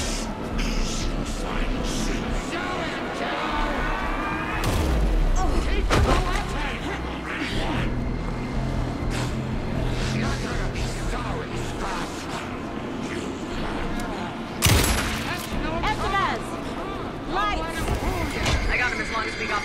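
Gunfire in the Alan Wake 2 video game during a final boss fight, with scattered shots and sharp bursts amid loud music, effects and occasional speech.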